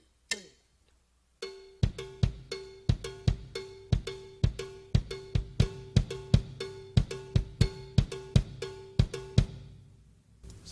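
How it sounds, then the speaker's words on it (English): Cowbell struck in steady quarter notes alongside a bass drum in a songo-style drum groove, the bright, even clanks ringing close and alone at a moderate tempo after a single opening hit. "playing quarter notes on the cowbell and playing that bass drum along with the bass player"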